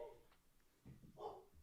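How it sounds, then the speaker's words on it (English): A dog barks faintly in the background, a couple of short yips rising near the end of a brief quiet stretch, with a voice briefly audible under them. "I apologize if you can hear the dog barking in the background."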